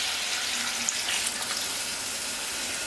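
Water pours steadily into a pot of curry stewed chicken with potato, a continuous close hiss and splash lasting throughout.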